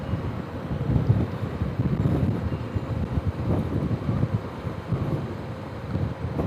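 Wind rushes and buffets past a rider on a Honda Africa Twin motorcycle, a loud, continuous, gusty roar that rises and falls unevenly throughout, with no talking.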